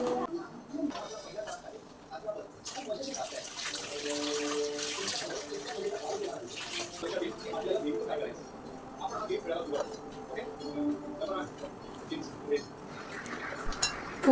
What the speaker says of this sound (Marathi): भेंडी धुवून घेतली